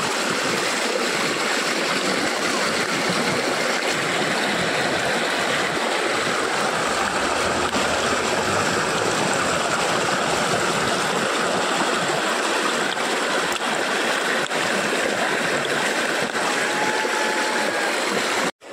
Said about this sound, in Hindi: तो देखो तुम्हें माँ गंगा की आवाज़ सुनाऊँगा, छल छलाती हुई लहरों की आवाज़ें सुनाऊँगा